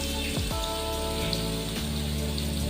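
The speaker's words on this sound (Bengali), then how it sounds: "গরম তেলে দিয়ে দেওয়া হচ্ছে" Diced potatoes dropped into hot oil for a Bengali potol posto recipe give a loud, continuous sizzle and crackle throughout, steady and close with no talking.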